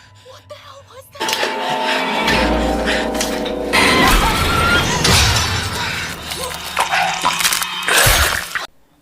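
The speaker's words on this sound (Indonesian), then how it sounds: "langsung mengacak-ngacak rumah sakit hingga semuanya hancur lebur" Things shattering and crashing as a hospital is smashed up in a monster film scene, a dense, loud run of breaking glass and debris after a quieter start, with a heavy low rumble.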